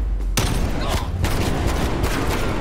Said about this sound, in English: I'm shooting past his dead body